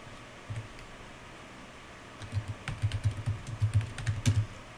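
Game code is typed on a computer keyboard in a fast run of close, crisp key clicks that begins sparse and becomes denser and steadier over several seconds.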